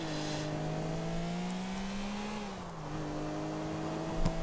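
A car engine droning steadily while driving in GTA IV, a loud sustained hum whose pitch dips and rises slightly with the throttle, alone without talk.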